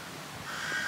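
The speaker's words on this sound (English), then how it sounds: "Hear those crows?" Crows cawing outdoors near a waterfall and river in Ambleside, a short burst of harsh calls at moderate distance with no talk.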